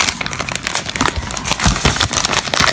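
Cheap selfie stick packaging, bought in Japan, is pulled open with busy, close crinkling and crackling of plastic wrap in quick irregular bursts. No one speaks over it.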